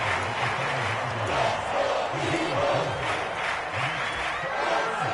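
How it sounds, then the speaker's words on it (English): Football stadium crowd roaring and cheering ahead of a big third down, a dense sustained roar with rhythmic chanting swells rising and falling. "the crowd getting into it as we come up on a big 3rd down"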